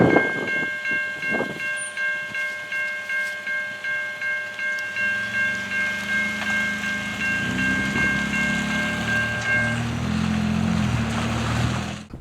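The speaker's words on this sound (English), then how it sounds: "The next train was an unusually short CNQ-101. It's coming out of Brampton, heading to Roberts Bank, BC." A CN freight train, the short CNQ-101 led by locomotive 3845, sounds a long multi-tone horn at a crossing at St. John's Sideroad in Pine Orchard, then rumbles past with wheels clattering steadily on the rails.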